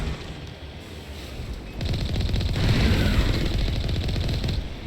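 Video game gunfire in Mass Effect, starting as a quieter background rumble and then turning into sustained rapid automatic fire for several seconds.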